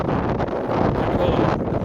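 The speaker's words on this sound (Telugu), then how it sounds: "ఈ గాలి అనేది ఆగిపోద్ది ఈ రెండు రోజుల్లో" Strong desert wind in Kuwait buffets the microphone in a continuous low roar, with no pauses over the short stretch.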